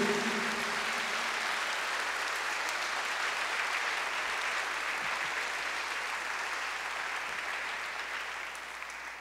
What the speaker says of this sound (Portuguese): Aplaude a Jesus.